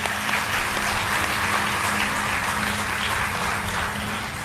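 A crowd at a religious discourse applauds a boy with sustained, dense clapping that holds steady and loud throughout, filling the hall with no talk over it.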